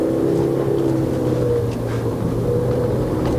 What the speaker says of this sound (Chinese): 真的那个转速高。